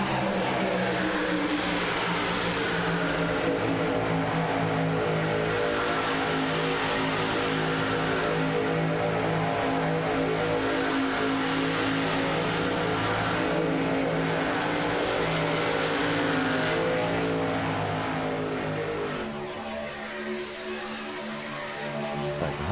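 Race trucks roar around a track in a pack, engines droning loudly and continuously with shifting pitch, easing off near the end.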